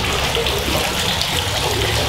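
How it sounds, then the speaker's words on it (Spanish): A small water fountain splashes inside a kiosk in Huejúcar, Jalisco, Mexico, a close, steady, continuous gush and patter of falling water with no voices. "una fuentecita de agua acá adentro"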